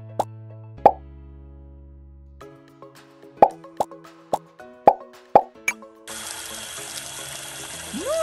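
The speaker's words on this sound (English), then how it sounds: "Move the hose around to rinse Tango off." Cartoon water effects from a Sesame Street puppy pet-care video game: a series of sharp plops and drips over soft musical tones, followed by a steady hiss of spraying water from a hose rinsing a puppy.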